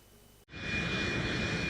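An airliner's engine roar, carrying tourists arriving in Australia, swells suddenly to a loud, steady broadband rumble with a constant whine running through it, heard alone without talk.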